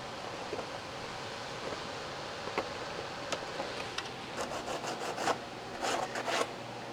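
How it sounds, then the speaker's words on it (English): Quiet rubbing and rasping of sandpaper deburring the edges of a soft embossed aluminum heat shield, short irregular strokes growing busier toward the end, close by with no voices. "It's soft aluminum, so it's easy enough to sand"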